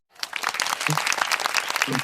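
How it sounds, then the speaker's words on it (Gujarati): A group claps loudly and continuously during a blindfold game challenge, with dense, close applause that starts suddenly and holds steady while voices talk over it. "લે વિક્રમભાઈ તાળી પાડો."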